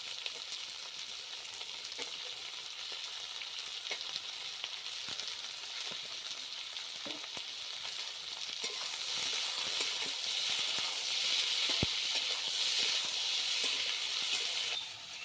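Chopped tomato pieces sizzle in a pan of frying chili cauliflower, a steady hiss with small crackles and occasional stirring clicks that rises slightly midway and stays fairly close.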